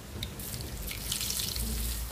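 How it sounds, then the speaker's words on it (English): Beef broth pours steadily into a kitchen pot holding beef, a continuous soft splashing and trickling stream, fairly quiet and close, with no talking. "the last thing you want to add to this, the pot with the beef in it, is the broth"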